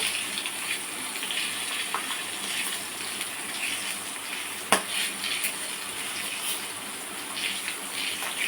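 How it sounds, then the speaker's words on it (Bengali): Cumin seeds tempering in hot cooking oil make a steady, dense hiss and crackle that runs throughout, with one brief sharp pop partway through. "একটু এটাতে তেল দেবো জিরে ফোড়ন দেবো"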